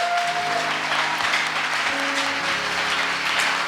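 A church congregation breaks into sustained, steady applause that fills the room at close range, with a low murmur and faint tonal hum underneath.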